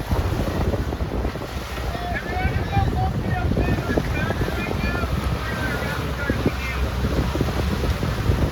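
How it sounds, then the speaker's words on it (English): Strong wind rushes steadily across a C420 sailing dinghy out on open water during a regatta, with waves and hull splashing mixed in and a voice talking over the blustery noise. "A little more wind coming in right now."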